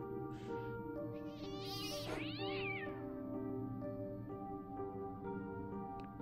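A cat meows and caterwauls in the video game Fran Bow, with several drawn-out, wavering cries over a steady musical drone, fairly clear within the game's soundtrack.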